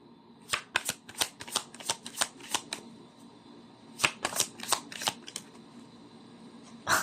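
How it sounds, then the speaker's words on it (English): A deck of tarot cards being shuffled, quick riffling bursts in two runs separated by a pause, close and fairly quiet, with no voices. "You saw me shuffle as always."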